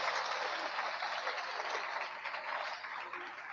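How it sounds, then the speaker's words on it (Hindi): A church congregation breaks into loud, sustained applause, a dense, even rattle of many hands clapping together in an indoor hall, with no one speaking over it. "प्रभु के उत्तम दास के लिए जोर से ताली बजा के प्रभु को धन्यवाद दें।"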